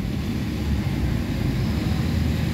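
A car engine revs up to around 2,000 RPM after several minutes of idling, following an XADO engine treatment, producing a steady, loud low rumble with no talk over it.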